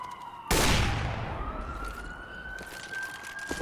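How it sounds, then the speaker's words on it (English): Two police sirens wail in a Counter-Strike: Global Offensive match, rising loudly after a sudden burst and then holding a sustained tone in the background, with a sharp click or two near the end. "Hellraisers with two sirens in the background."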